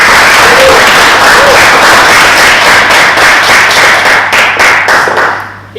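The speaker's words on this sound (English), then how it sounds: "so round of applause for somebody extraordinary" An audience at a Toastmasters speech evaluation session breaks into loud, close applause, a dense wash of many clapping hands that thins toward the end into a few scattered claps.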